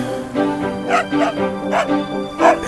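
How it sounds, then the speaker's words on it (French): A dog barks repeatedly in quick, excited yips, close and fairly loud, in an irregular rhythm. "Le chien aboie de joie de retrouver son compagnon."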